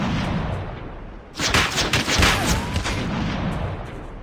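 Rapid bursts of gunfire in Call of Duty Mobile battle royale Blackout mode, a dense volley of shots crackling in the mid distance over a steady background rumble.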